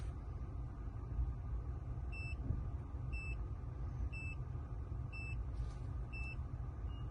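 Five short, high electronic beeps at an even one-second pace from an Autowatch Ghost 2 car immobiliser entering service mode, sounding over a low steady rumble of background noise.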